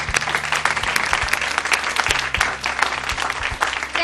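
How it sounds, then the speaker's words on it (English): Audience applause at a formal evening event, dense and loud, sustained throughout with sharp individual claps standing out and no talk over it. "Let's give her another round of applause."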